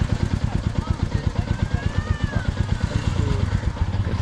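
A motorcycle with an engine warning light on and oil dripping underneath idles nearby after being started, its steady low thumping pulse running throughout with faint voices in the background.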